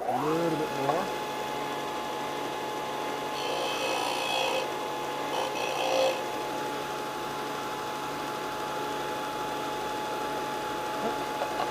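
Rasping sanding of an aluminum butt plate on a Ruger 10/22 benchrest rifle stock comes in two steady bursts midway, close and fairly loud over a constant background hum, with a brief voice at the start.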